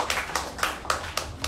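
Scattered clapping from a small audience at a book discussion in a reading garden in Denpasar, a few distinct claps at a moderate pace, fairly close and modest in volume.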